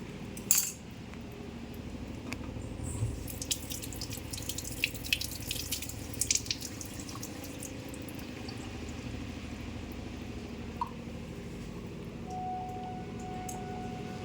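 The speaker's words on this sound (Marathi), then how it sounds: "आणि आता हे जे पुदिना आहे ह्याला धुवून घ्यायचं आणि ह्याच्या आत घालायचं आहे." Mint leaves are washed under a running kitchen tap, a steady splashing stream of water into a sink with small clinks and drips, fairly close and moderately quiet throughout.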